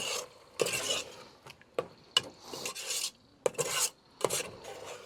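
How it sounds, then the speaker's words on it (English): Satay sauce stirred in a single pan over an open flame outdoors in a park: a series of loud, rasping scrapes and clinks from the utensil against the pan, coming in uneven bursts with short pauses between. "Flame up and pretty much stir it."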